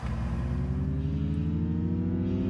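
A car engine revs and holds a rising, throaty drone, loud and close, with the pitch climbing steadily.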